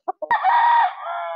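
A rooster gives two short clucks, then a loud, close crow that holds and trails off into a long drawn-out note, heard alone.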